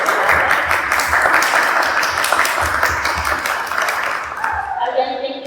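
Applause from a gathered audience at a book release party for a short story collection, steady clapping mixed with crowd voices that fades out near the end.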